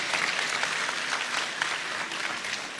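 An audience at an art awards ceremony applauds, a dense steady patter of many hands clapping throughout, close and even, with no pauses or voices.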